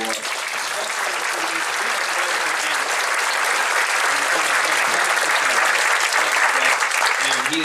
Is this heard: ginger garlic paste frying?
no